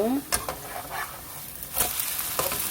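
Potato pancake shredded potato frying in a pan, a steady crackling sizzle running throughout with a few sharper spatters and scrapes.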